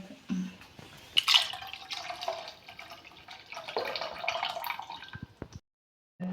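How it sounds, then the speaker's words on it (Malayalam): Tamarind water is poured into a fish curry, giving a light splashing and trickling of liquid with a few drips. The pour sounds faint and close, then cuts to near silence at the end. "പുളി ഒഴിക്കുക."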